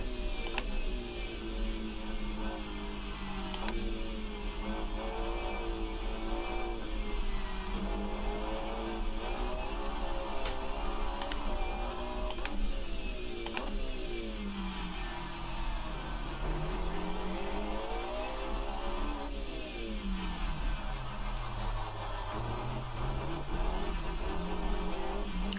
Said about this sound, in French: Oh, puis le bruit de cette caisse, c'est...